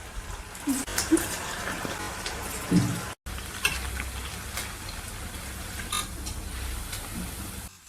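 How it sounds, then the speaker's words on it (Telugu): Veg Manchurian balls deep frying in hot oil over a medium flame, a steady crackling sizzle with scattered pops and a brief dropout partway through. "ఫైవ్ టు 6 మినిట్స్ మీడియం ఫ్లేమ్లో ఫ్రై చేసుకుందామండి"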